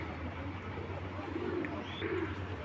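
A female racing pigeon gives a couple of soft, low coos, faint and close, over a constant background hum.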